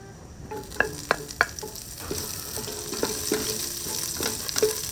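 Ginger sizzling and crackling in a pot, with several sharp clinks and scrapes of stirring near the start over a steady frying hiss.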